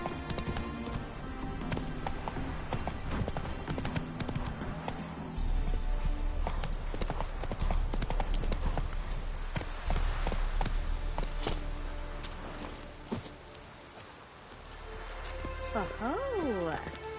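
Geralt's horse Roach gallops in The Witcher 3, rapid clip-clop hoofbeats drumming steadily under in-game dialogue and background music, with a brief whinny near the end.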